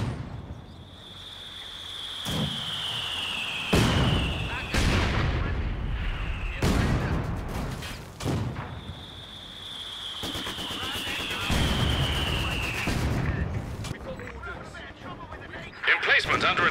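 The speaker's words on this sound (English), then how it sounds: "Target will be plastered by the barrage." Artillery barrage in the video game Company of Heroes 2, with repeated heavy booming blasts and rumbling impacts over a whistling shell tone, dense and loud throughout, with game voice lines over it.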